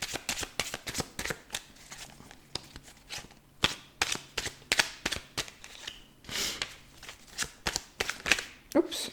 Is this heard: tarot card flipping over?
yes